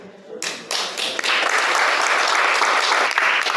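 Audience applause at a book presentation for a volume on Las Heras, starting abruptly after a brief quiet moment and holding as steady, dense clapping from a roomful of listeners.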